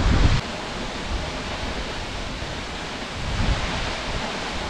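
Waterfall roaring as a steady broadband wash of falling water, constant and fairly loud with a slight swell near the end, no voices over it.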